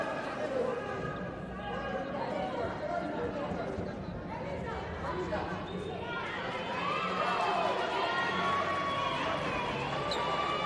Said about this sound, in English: we hear the crowd react to that substitution